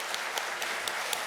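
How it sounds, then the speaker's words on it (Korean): A congregation claps at a church ceremony installing a pastor and honoring a retiring senior pastor, a faint, brief patter of applause at a distance. "크게 박수하도록 하겠습니다."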